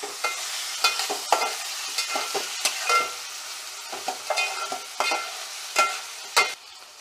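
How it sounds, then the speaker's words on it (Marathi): Tomatoes soft-frying in a pan for a raw banana curry, with a steady sizzle broken by repeated scraping stirs of a spoon against the pan, close and moderately loud, no voices. "टोमॅटो सुद्धा आपल्याला छान असा सॉफ्ट फ्राय करून घ्यायचा आहे"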